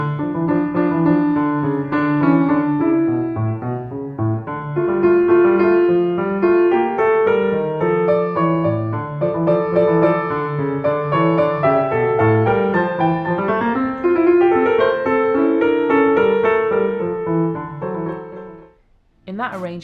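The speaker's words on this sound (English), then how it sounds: "the right hand or the higher pitched part of the piano was playing the melody, and the left hand or the lower pitched part was the counter melody" Solo piano arrangement of a song with the right hand carrying the melody and the left hand playing a separate counter melody, steady and full for about eighteen seconds before stopping.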